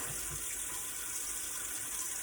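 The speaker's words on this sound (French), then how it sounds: "Je fais couler mon eau chaude" Hot water running steadily from a kitchen tap, a constant hissing rush without pauses, fairly faint and even throughout.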